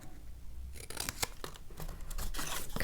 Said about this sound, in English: Maybe I'm going to cut them like this.